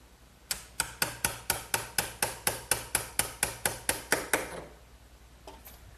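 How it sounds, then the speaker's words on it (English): A sharp chisel chops away excess wood at a shoulder cut for a trestle table, about fifteen crisp, evenly spaced strikes in a steady rhythm, close and loud, then stopping with a quiet tap after. "I'm just removing the excess with a good sharp chisel"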